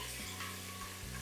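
Green chillies and onions fry in a pan, a close, steady sizzle with soft stirring and no voices in this brief moment.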